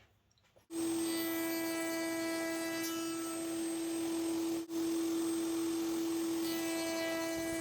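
A router spinning on a router table as it cuts a workpiece held in an MDF jig: a loud, steady high-pitched whine with a brief dip midway, then the same continuous tone.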